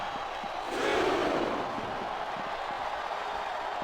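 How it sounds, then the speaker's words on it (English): Video game wrestling crowd in WWE 2K24 during an Elimination Chamber match, a dense roar of shouting that swells briefly near the start and then holds as a steady, loud wash of crowd noise. "Sounds like this crowd's got something on their minds, King."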